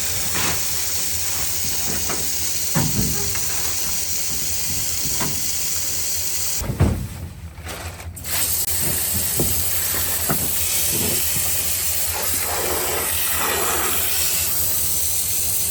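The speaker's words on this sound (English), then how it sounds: "Here's the hose. I'll turn it on." A garden hose runs water with a steady, close hiss at a horse barn, broken by a short pause partway through and a few soft knocks and thumps.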